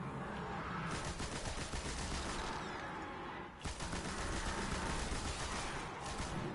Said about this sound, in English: Damn, this machine gun tears.